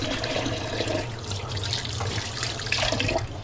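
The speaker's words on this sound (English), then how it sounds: "wash my hands properly if I can" Hands are washed under a running kitchen tap, a continuous close splashing rush of water with slight shifts as the hands move through the stream, steady and fairly loud throughout, no voices.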